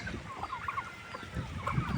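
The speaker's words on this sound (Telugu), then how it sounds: "టర్కీ బర్డ్స్ కావాలన్నా కానీ అవైలబుల్గా ఉన్నాయి" Bengaluru-breed turkeys gobble and cluck close by in short, overlapping calls over a faint noisy background.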